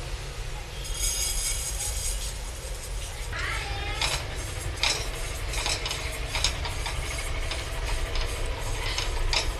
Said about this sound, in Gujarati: કઢાઈ સરસ ગરમ થઈ ગઈ છે, તો હવે સુવાદાણા નાખી દેશું.